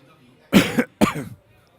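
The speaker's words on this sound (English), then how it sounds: "Excuse my cough." Two sharp coughs close together, near and fairly loud, separated by a brief pause against a quiet background.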